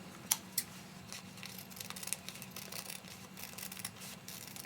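Scissors snip around the edges of craft flower petals made from dollar store materials, a few crisp separate cuts early on and then soft, faint trimming and rustling close by.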